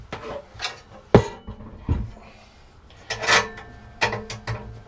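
An Allen key loosens the front mount screw of a portable bandsaw table, giving scattered close metallic clicks, scrapes and light knocks at an uneven pace with quiet pauses between.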